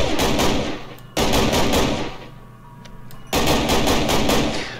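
Automatic AKM rifle fire in a Minecraft gun mod, loud rapid bursts of shots separated by short pauses, with no talking.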